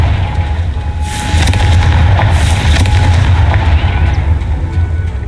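A Confringo blasting spell goes off in Hogwarts Legacy, a loud, sustained rumbling explosion with crackling bursts that fills the whole moment without letting up.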